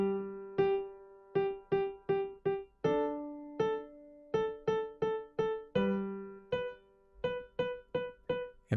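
Piano notes are played in a simple rhythm of two quarter notes followed by four eighth notes, repeated across several measures as clean, separate struck notes with decaying sustain and no talk.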